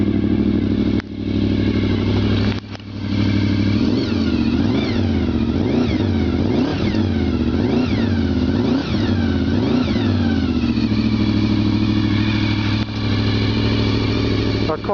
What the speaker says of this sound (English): That's from a perfectly cold engine. And she sounds rather lovely.